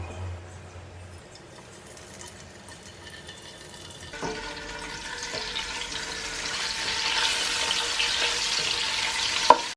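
Potato pieces going into hot cooking oil on a medium flame, starting quiet then turning into a steady close hiss of frying, broken by a faint scrape near the end, with no talk.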